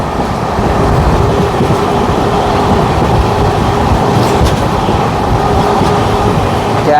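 Jammu Mail train being overtaken on a parallel track during a Tatanagar to Delhi journey aboard the Odisha Sampark Kranti, a loud, continuous rumble of rolling wagons and rail noise heard up close, with no talking.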